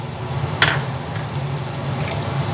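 Pre-fried potatoes added to a pan of hot oil and spices for ghugni give a steady close sizzle, with a short clatter as they go in.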